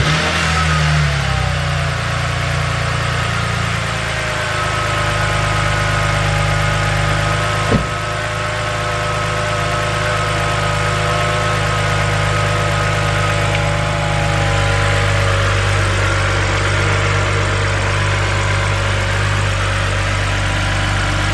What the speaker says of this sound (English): Now let's just fire up the engine just to make sure we don't have any issues.